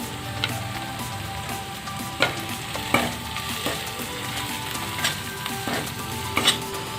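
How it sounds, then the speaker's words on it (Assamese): Turmeric, red chili powder and mustard sizzle steadily in a pan for fish curry, with a constant frying crackle broken by sharper scraping taps as the spices are stirred, heard close and alone. "এতিয়া শুকান মছলাখিনি মিহলাই দিম"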